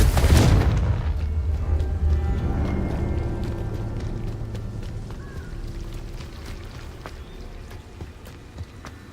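A Confringo blasting curse goes off in Hogwarts Legacy, one heavy booming explosion at the start that rolls into a long, fading rumble with crackling debris and no voices.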